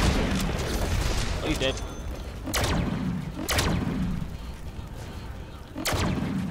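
Gunfire in the Deadpool video game: three heavy shots, each a sharp, booming crack with a short tail, land a second or more apart while a player talks over the game's steady background noise.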